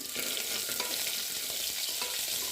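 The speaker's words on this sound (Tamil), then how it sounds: "இதை சேர்த்து ஒரு கிளறி விட்டுட்டு" Onion, garlic cloves and a small piece of ginger are stirred in a hot pan for radish chutney, giving a steady, close sizzle with soft scraping strokes throughout and no talking.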